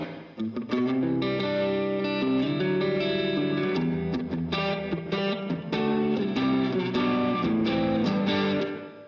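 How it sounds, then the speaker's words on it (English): Electric guitar played through a pedalboard with reverb from a Revelation pedal, sustained chords ringing in a wet, spacious wash, loud and continuous throughout with no talking. "I'm gonna turn on a little bit more reverb from the Revelation."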